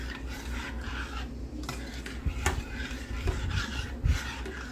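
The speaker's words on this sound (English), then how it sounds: "Just remember to stir it constantly." A spoon steadily stirs strawberry pie filling in a pot on medium heat, giving close, continuous scraping and rubbing with a few louder knocks against the pot, and no voices.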